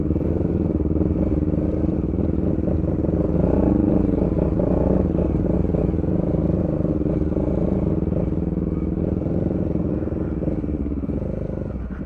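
A Bajaj Dominar 400 motorcycle rides off-road on rough terrain, its engine droning steadily and close with clattering from the bike and ground, continuous for the whole stretch.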